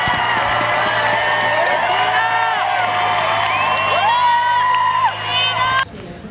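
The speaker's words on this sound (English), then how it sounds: "Crowd recognizing Deena now" Marathon spectators cheer and whoop for runner Deena Kastor, a dense, loud crowd roar with overlapping shouts and voices that drops away abruptly at the end.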